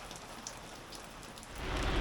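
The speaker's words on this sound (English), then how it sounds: "Just as we're about to go, it starts raining again" Steady rain patters on a sailboat lying at anchor during stormy weather off Portugal, a dense hiss that swells louder toward the end, with no voices.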